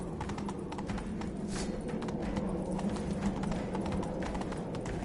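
A horse galloping in The Witcher 3, heard as a rapid, steady clip-clop of hooves over continuous ambient game noise, close and sustained for the whole stretch.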